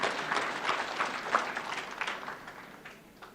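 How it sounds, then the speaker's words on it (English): A graduation audience applauds international students, with a faint, distant wash of many hands clapping that slowly dies away. "A clap for our international students."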